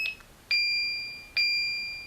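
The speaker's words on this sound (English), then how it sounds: "and you get a double beep there." An X10 security console gives a crisp double beep as it is disarmed: a short chirp, then two loud, sustained electronic tones about a second apart, each fading slowly, with no voices.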